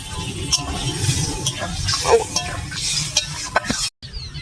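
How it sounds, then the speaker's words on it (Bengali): Potato curry (aloo dum) is stirred in a pan, a spoon scraping in uneven strokes over a low simmering sizzle, with a few sharper knocks against the pan near the end. "ভালো করে একটু নেড়ে ছেড়ে দেবো"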